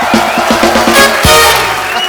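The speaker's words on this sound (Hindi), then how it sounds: "सनी बाजी और बॉबी बाजी के लिए जोरदार तालियां हो जाए।" A studio audience on The Kapil Sharma Show bursts into loud applause and cheering, opening with a few rhythmic claps before swelling into a full, close roar of clapping and shouts.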